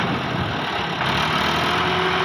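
A vehicle engine runs steadily at a near, loud level while its wheels slip and spin, the rough mid and low rumble continuing unbroken with no voices.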